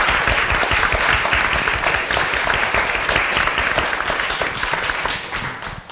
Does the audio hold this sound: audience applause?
yes